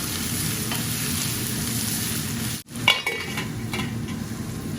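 Salmon and onion sautéing in a pan in a Bangladeshi village-style kitchen, with a steady close sizzle, scraping stirs and a brief utensil clink against the pan partway through.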